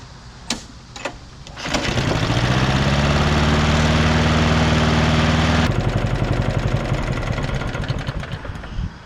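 A push lawn mower fitted with a weed eater carburetor gives a couple of sharp clicks, then starts and runs loud and close at a steady idle. Partway through, the running turns rougher and starts to pulse, then settles into an uneven sputter.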